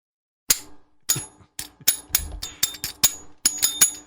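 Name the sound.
bell ringing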